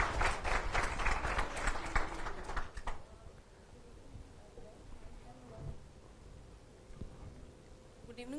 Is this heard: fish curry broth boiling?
no